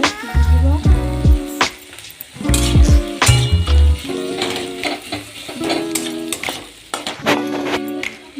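A spoon scrapes and clanks against a pan while tomatoes with masala cook in oil, with loud stirring strokes over a steady sizzle close by.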